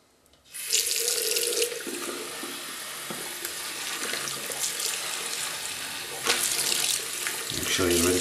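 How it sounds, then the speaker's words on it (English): A shaving brush is rinsed under a running tap in a sink, water splashing steadily and loudly from start to end, swelling briefly as the brush is worked under the stream. "And again, rinse thoroughly inside the brush and caress it gently."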